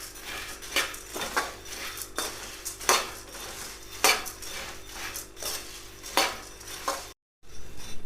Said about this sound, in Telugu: ఇగో ఈ విధంగా ఇలాగ వేయించుకోవాలి.